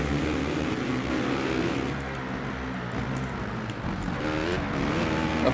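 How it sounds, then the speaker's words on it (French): Several motocross motorcycle engines drone and whine together in the racing game MXGP, a continuous loud roar of racing bikes with no speech. "on entend beaucoup les autres motos"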